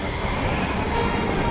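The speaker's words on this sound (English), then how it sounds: "Zitron, there is a train coming on the railroad. You'd better stop." A cartoon train rumbles along the railroad, a steady loud rolling roar with faint metallic ringing, brief and continuous, no voices.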